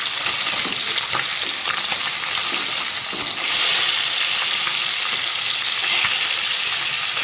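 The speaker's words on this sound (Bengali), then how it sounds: "সুন্দর করে লাল লাল করে ভেজে তুলে নেব।" Fish frying in a pan for a light fish curry, a loud continuous hissing sizzle with crackling pops that swells midway, heard alone without talk.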